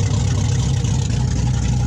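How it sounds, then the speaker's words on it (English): Corvette C5 V8 idling with its exhaust system removed, a loud, raw, steady low rumble close by with no talk over it. "you might be a little in question of why it sounds like that. That's because I didn't get the exhaust put back on yet"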